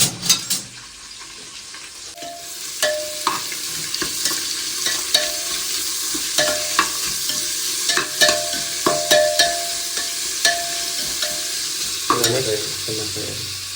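Chopped onion frying in a pan for a tomato bath, with steady broadband sizzle and repeated scraping stir strokes across the pan, close and alone with no talking.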